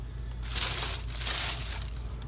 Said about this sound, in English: This is the tissue paper, just regular white tissue paper.